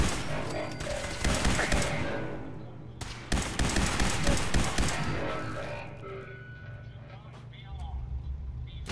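Rapid bursts of the laser-based Wazer rifle fire in Fallout 4, with dense crackling shots and blasts heard close and loud, and someone talking over the gunfire.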